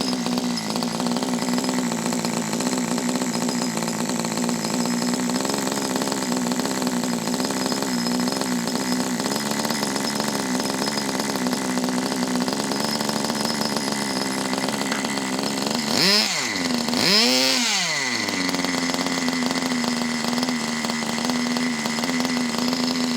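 A Kyosho Nitro Tracker RC truck's nitro engine idles very low and steady with a continuous buzzing drone, briefly blipped twice near the end before settling back to idle.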